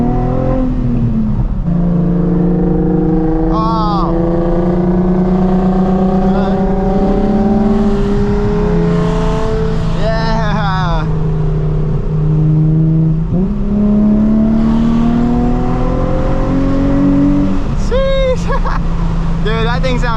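An engine revs and climbs through gears as the car accelerates while racing an Infiniti G35 on the road, loud rising and falling tones with shift drops, alongside a Nissan 350z HR, as people talk over it.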